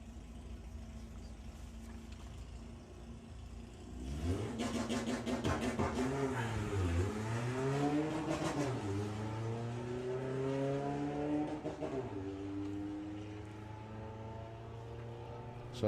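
A Mark 1 Golf GTI launches in a drag race at Santa Pod during a Volkswagen drag racing qualifier, its engine revving hard and climbing through gears at a distance amid faint track ambience.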